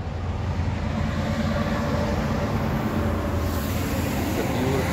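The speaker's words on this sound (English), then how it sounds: "there's a train going by" A train rolls past close by near Kamloops, British Columbia, giving a steady, loud rumble with a continuous broadband rush that holds evenly for the whole stretch.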